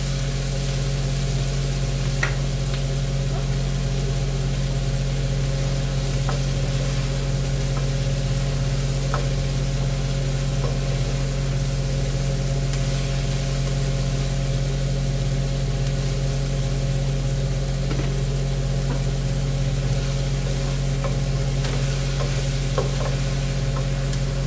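Tofu frying in a pan with pork and string beans, a loud close steady sizzle with a constant low hum, broken by scattered scraping stir sounds over about twenty-five seconds.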